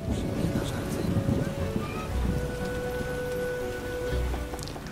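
Heavy rain in The Witcher video game, a steady hiss of downpour with gusting wind, continuous and fairly close beneath a few quiet tonal game sounds.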